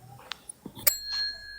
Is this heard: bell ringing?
yes